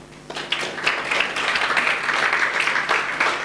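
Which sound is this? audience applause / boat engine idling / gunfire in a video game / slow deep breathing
audience applause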